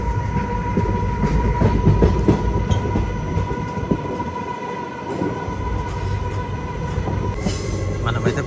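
Steady, loud rumble and rattling wheel clatter from inside the Nagarsol Superfast Express 12787 as it runs through Veeravasaram railway station without stopping, continuous and close throughout with a faint high whine and no voices.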